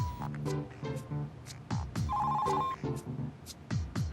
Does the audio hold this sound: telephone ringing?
yes